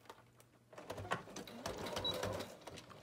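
A sewing machine stitches through a composition book cover in a fast, rattling run of needle strokes, close and fairly quiet, with light handling noise around it.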